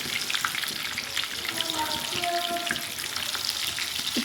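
Kebabs sizzle and fry in a pan as they are turned over, with a steady close hiss and a few soft clinks and scrapes on top.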